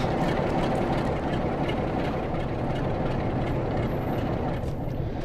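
A Class 47 diesel locomotive hauling a train in a train simulator game rumbles steadily, with a dense continuous engine and running noise heard from the cab.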